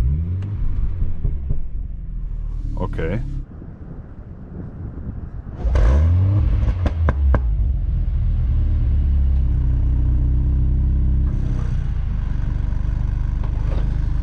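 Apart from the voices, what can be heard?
sports car engine starting and revving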